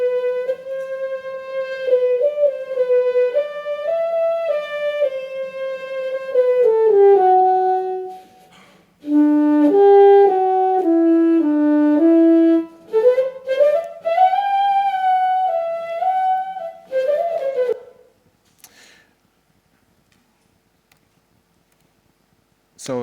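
Neural-network resynthesized saxophone, a model trained on wind instruments and adapted to a few seconds of saxophone, playing a legato melody of sustained tones for about eighteen seconds before falling silent.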